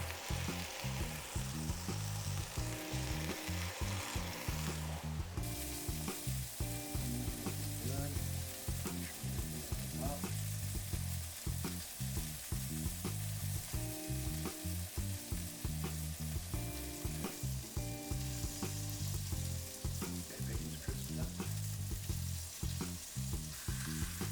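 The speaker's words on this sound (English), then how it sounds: "We'll do a little bacon. Start heating that up on this end of the grill." Bacon sizzles on one end of a grill while smash burgers are prepared, a dense, steady frying crackle that runs without pause and stays close and even throughout.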